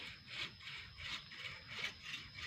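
Hand saw cutting through wood, a faint rhythmic rasp of about six strokes in quick back-and-forth succession with nothing else heard.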